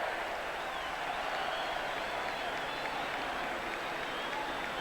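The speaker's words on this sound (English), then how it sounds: "this big crowd is giving 3 cheers to Alan Border, Jeff Marsh and the boys" A big football crowd at the 1989 VFL Grand Final between Hawthorn and Geelong roars in a steady, dense wash of cheering and clapping that fills the stadium without a break.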